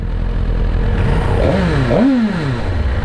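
A 2023 Suzuki GSX-R1000R motorcycle with factory exhaust rumbles up and revs twice in quick rising-falling swells over a constant low idle, loud and close.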